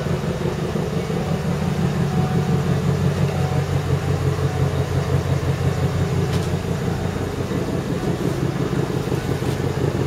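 A Lincoln Mark VIII, not run for a while, idling steadily after a cold start, a smooth continuous low engine rumble heard close without revving.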